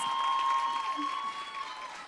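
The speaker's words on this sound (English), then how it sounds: "Can we give her a round of applause?" Audience applause at a university Women's Month public lecture for a newly appointed director, steady clapping that fades slightly toward the end, with a faint tonal hum underneath.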